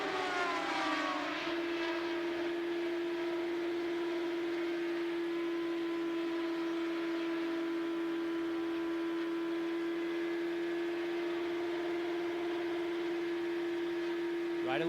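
A 2004 IndyCar race car at Pikes Peak screams down the straight, its engine held at the 10,300 RPM rev limiter as one loud, sustained, buzzing high note with rich harmonics, with race commentary underneath.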